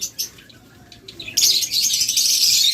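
Lovebirds offered for sale in pairs chirp together, a few faint calls early, then a dense, bright, continuous flock chatter in the second half, fairly close.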